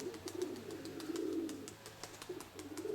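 Pigeons coo in low, rolling murmurs, several soft throaty calls close by over a quiet background with faint clicks.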